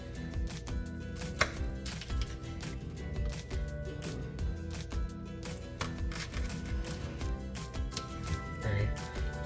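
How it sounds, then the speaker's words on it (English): A knife chopping chilies on a cutting board in a home kitchen, rapid continuous close-up knocks on the board that keep a steady rhythm throughout. "Now chop these chilies as well."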